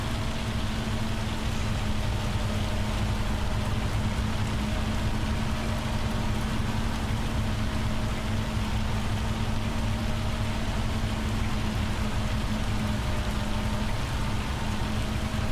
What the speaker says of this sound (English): Yeah, that's definitely hailstones.